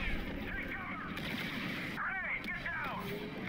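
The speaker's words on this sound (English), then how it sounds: "Oh, who's firing at me?" Steady gunfire and battle noise fill the background of the Star Wars Battlefront II (2017) video game. The sustained combat din carries occasional sharper blasts and swooping tones.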